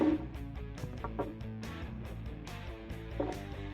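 A voice speaks through the buzzy, metallic robot-style effect of a Really Rad Robot MiBro toy, words flattened into a droning, synthetic tone, close and steady.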